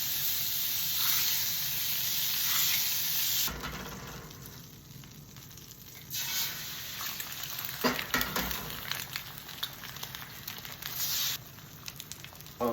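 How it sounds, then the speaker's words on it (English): Eggs frying in a pan with butter, a steady close sizzle and hiss that drops quieter partway through, with a few faint clinks and crackles over the softer stretch and a brief louder burst near the end. "While those eggs cook up"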